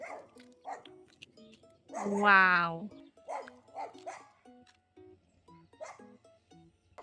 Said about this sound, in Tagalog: Ewan ko ba dyan sa mga aso ni Yul Apa guys. Maingay talaga sila.